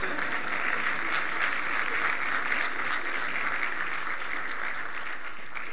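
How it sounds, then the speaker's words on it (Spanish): Steady applause from a live audience at a Spanish-language business talk, continuous and even throughout, crowd clapping filling the room without speech. "¿me pueden aplaudir, por favor?"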